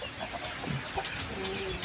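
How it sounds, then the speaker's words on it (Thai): Farm chickens squabbling and clucking nearby, agitated calls rising over a constant noisy background. "ได้ยินไหม ไก่ผมทะเลาะกัน"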